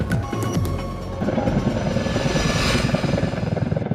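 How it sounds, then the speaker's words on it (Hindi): A helicrane and its supporting B3 helicopter flying over mountains on a transmission line project, a close, loud rotor chop and turbine whine with rapid beating pulses. "हेलीक्रेन अपने सपोर्टिंग B3 हेलीकॉप्टर के साथ पहाड़ों पर डेली रन्स में जुटकर"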